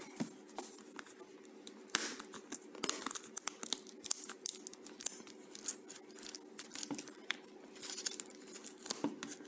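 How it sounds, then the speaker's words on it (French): Packaging for a Yeelight LED strip is opened up close, with rustling, crinkling and tearing in short irregular bursts and no voices. "Donc maintenant on va déballer ici"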